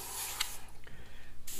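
Airbrush spraying paint over skull stencils, a steady hiss that cuts out briefly and resumes in short bursts, close and moderately loud.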